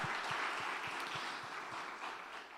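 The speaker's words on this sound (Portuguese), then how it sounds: "Você pode dar um aplauso maravilhoso a esse Deus tremendo," A church congregation applauds in a broad, continuous clapping wash, while a steady low thump keeps a regular beat underneath, all heard fairly faintly and gradually tapering.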